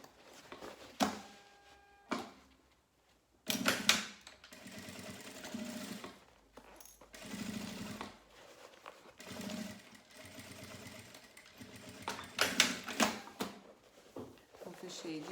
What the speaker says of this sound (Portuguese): dá pra gente costurar bacana esse material aqui na máquina doméstica